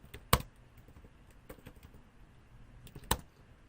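Code being typed on a computer keyboard: scattered soft key taps with two sharper, louder clacks, close but quiet, and no one speaking.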